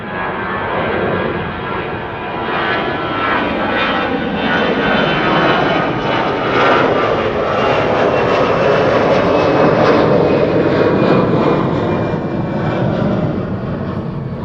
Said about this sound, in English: Vueling flight 8303 to Barcelona. Regular A320, 17 years old.